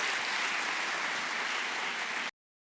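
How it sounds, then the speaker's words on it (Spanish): Audience applauding a departing doctor at the close of a talk on reading neurotherapy and emotional state, steady dense clapping held at even loudness for about two seconds, then cutting off abruptly into silence. "Despedimos al doctor César Alanís Olivares. Muchas gracias. Un aplauso."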